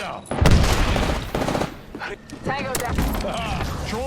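Gunfire from the video game Apex Legends, bursts of shots under a dense mix of game effects and voices, loud and busy throughout with a short drop in level midway.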